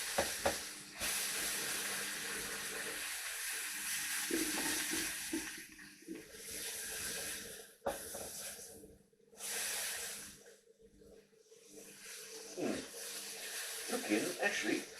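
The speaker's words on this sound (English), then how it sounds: "I'm going to gently press the steaks down onto the heat" Venison steaks pressed into a hot pan hiss and sizzle in bright surges that rise and fade, close by, with someone talking over them.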